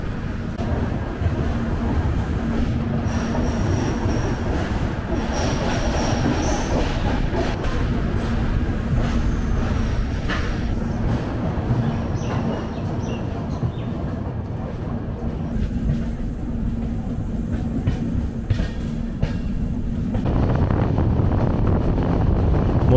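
The 15959 Kamrup Express rolls slowly into New Bongaigaon Junction in Assam, a steady low rumble of carriages heard from on board with wind buffeting and faint background sounds throughout.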